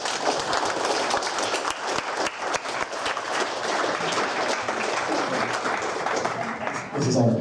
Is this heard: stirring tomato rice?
no